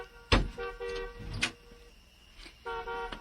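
A car horn toots in short separate blasts, one sharp honk near the start, another around the middle, and a final one near the end, set against a quiet street background.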